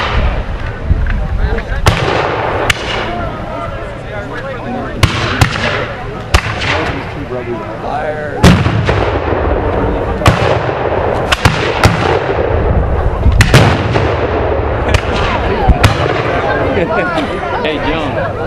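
An 8-pound cannon and other gunfire boom repeatedly at a War of 1812 reenactment, with sharp blasts at irregular intervals echoing outdoors while spectators chat and talk nearby.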